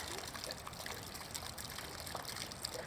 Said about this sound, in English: now we're filling the pool back up to just above those jets